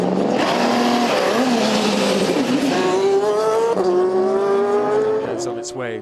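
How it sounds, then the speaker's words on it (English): An Audi LMP1 prototype race car at Spa slows toward the pits, a loud, close engine note stepping down through gears, with a commentator talking over it. "The Audi there continuing on its way, the first 4 in LMP1 into the pits."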